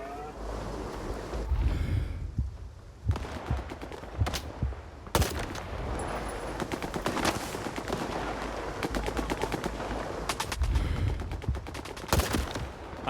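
Gauss gun and other weapons firing in Stalker 2's Pripyat fight, loud sharp shots and rattling bursts with booming impacts spread irregularly across the scene.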